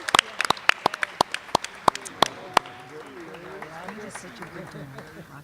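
Clapping from an audience at a school board of education meeting: sharp, scattered claps for about two and a half seconds, fading into quiet room noise and soft talking.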